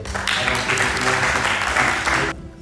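A church congregation claps and calls out in loud, continuous applause and acclamation, a dense wash of hands and voices that cuts off abruptly near the end.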